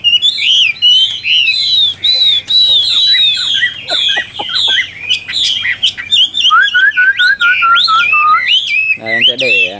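A hwamei sings loudly and close by, a continuous stream of varied, rich whistled phrases and trills with quick pitch swoops, alone without talk.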